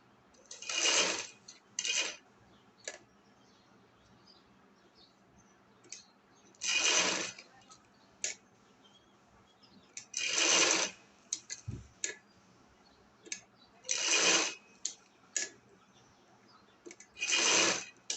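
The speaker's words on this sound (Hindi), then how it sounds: "अब इसको हम ना सिलाई के साथ पक्का कर लेते हैं।" A sewing machine stitches around a buttonhole on a shirt in short, bright whirring bursts separated by quiet pauses, with a few light clicks in between, close and fairly faint.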